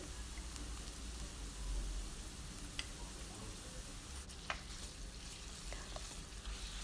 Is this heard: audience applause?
no